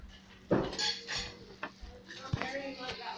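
Keto chicken Alfredo sauce in a pan gets stirred with a utensil, giving close scraping and clinking taps against the pan over a quiet kitchen background.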